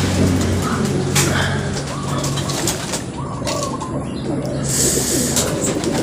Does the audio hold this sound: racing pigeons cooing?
yes